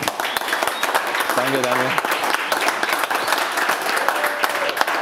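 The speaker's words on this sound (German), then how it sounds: "Erstmal einen Applaus für dich, Peter." An audience at a photography event claps for a presenter, a dense burst of applause running throughout while someone speaks over it.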